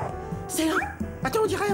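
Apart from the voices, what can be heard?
dog barking, cartoon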